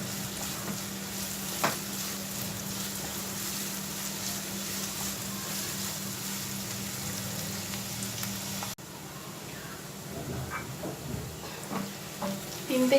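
Onion frying in a pan over high heat for a mushroom chili dish, a continuous soft sizzle with occasional stirring scrapes, the tone shifting partway through as the pan is worked.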